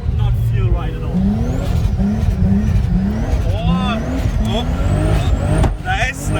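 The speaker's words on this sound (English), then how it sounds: "Out of literally all the cars I own, this might be the most stupid vehicle to drift." A 1300-horsepower Nissan Patrol drifts on a ski slope, its engine revving loudly and rising and falling in repeated surges close by, with tire noise and excited talk over it.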